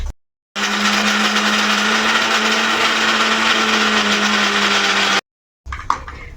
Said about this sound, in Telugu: మెత్తగా మిక్సీ పట్టుకుందాం